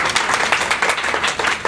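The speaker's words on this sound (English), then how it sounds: "So everybody, give them a big round of applause." A short burst of audience applause at a fitness event, a round of many hands clapping close and fairly loud, rising and falling slightly through under two seconds.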